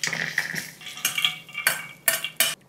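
A spoon stirs ghee-fried dry fruits and raisins into roasted coconut in a pan, giving a series of scraping, clinking strokes against the metal that grow sharper toward the end, close and alone.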